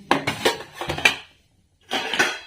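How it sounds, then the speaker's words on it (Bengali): A metal lid clatters and rattles onto a pot of just-boiled tea, several quick close clanks, then a pause before another short burst of rattling. "একটু ঢাকা দিয়ে দেবো"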